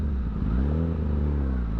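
A Kawasaki Ninja ZX10R sport bike engine revs close and loud, its pitch swelling and easing in one continuous, throaty run with no talk.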